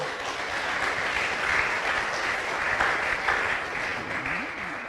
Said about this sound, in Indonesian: Kita tepuk tangan dulu saudara-saudara.